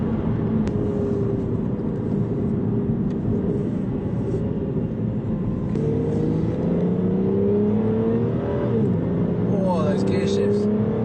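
An Aston Martin Virage accelerates with a rising engine note and audible gear shifts as pitch steps down and climbs again, heard from inside the car alongside steady road and wind noise.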